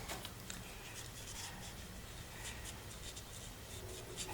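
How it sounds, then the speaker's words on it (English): Blend markers color around stamped poppies on paper, a quiet continuous scratchy rubbing of marker tips that runs steadily and close. "So I'm just coloring around those poppies"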